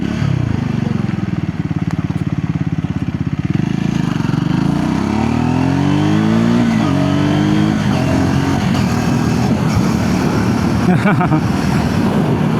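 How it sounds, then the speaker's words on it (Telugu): Loud exhaust note of a 2026 Triumph Scrambler 350x motorcycle while riding, a steady engine drone with rising and falling revs as it accelerates and shifts, continuous and close throughout. "ఎగ్జాస్ట్ సౌండ్ అయితే కొద్దిగా లౌడ్ వస్తూ ఉంది."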